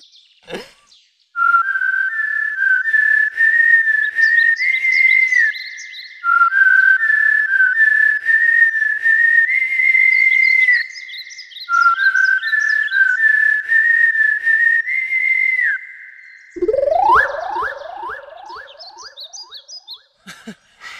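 A person whistles in long sustained phrases with wavering, warbling pitch, loud and close, broken by short pauses and ending in a fast upward flourish.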